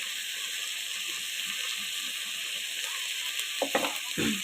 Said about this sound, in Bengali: সামান্য একটু জল দিয়ে মশলাটাকে কষিয়ে নেব।